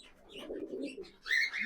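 Pigeons coo in a loft kept for match and racing birds, soft low throaty coos followed by a brighter call near the end, close and fairly quiet.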